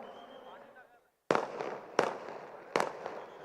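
Firecrackers set off outdoors during a municipal election campaign, three sharp loud bangs spaced about a second apart, each trailing into crackle and echo, following a few moments of quiet background chatter.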